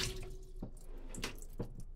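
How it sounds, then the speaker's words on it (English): A brand-new Speed Queen TC5 top-load washer fills with cold water, a steady rushing and trickling stream with a few brief splashy bursts, heard close and fairly quiet with no talk. "See, it is filling with cold water now."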